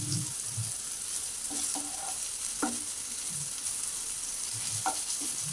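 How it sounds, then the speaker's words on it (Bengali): Raw mango pieces fry in oil over a high gas flame, giving a soft, continuous sizzle with occasional light scrapes and taps of stirring in the pan. "এইভাবে গ্যাসের ফ্লেম হাই করে দিয়ে আমগুলো এরকম লাল করে ভেজে নিতে হবে"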